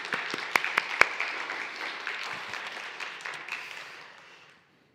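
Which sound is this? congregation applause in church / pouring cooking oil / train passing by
congregation applause in church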